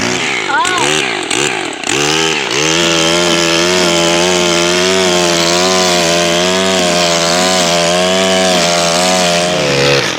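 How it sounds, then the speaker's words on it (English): A Stihl FS131R four-stroke string trimmer is started with a few quick pulls, then runs loud and close at a steady, buzzing engine pitch that wavers slightly throughout. "let's do a field test on the Stihl FS131R and see what we can do. Let's crank it."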